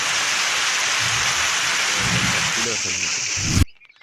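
Steady heavy rain hisses with low rolling thunder rumbling underneath, then cuts off abruptly near the end.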